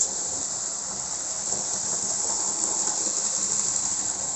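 An SNCF BB9240 locomotive on a test run travels along the track at speed, giving a steady, loud hiss of rushing air and rail noise over a low rumble that continues without a break.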